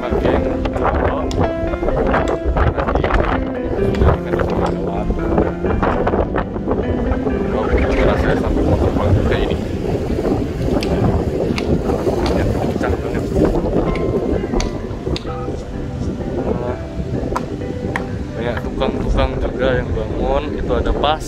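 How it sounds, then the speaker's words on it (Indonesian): Strong wind buffets the microphone at Melasti Beach in Bali, roaring in loud, uneven gusts over distant surf while someone talks throughout. "ini anginnya kenceng mungkin ketutupan anginnya suara saya"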